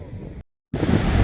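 Sea waves washing onto a Gujarat seashore, heard as a broad rushing wash mixed with wind buffeting the microphone, interrupted by a brief silent gap before the surf returns louder.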